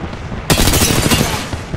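Gunfire in the Apex Legends video game breaks out suddenly after a quiet moment, becoming a loud, sustained burst of rapid shots that continues to the end.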